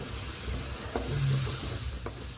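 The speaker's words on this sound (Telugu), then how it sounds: "బాగా పచ్చివాసన పోయే వరకు బాగా వేపాలి" Spinach (palakura) and onion frying in a pan for ullikaram, a low steady sizzle with a few scraping stirs of a spoon.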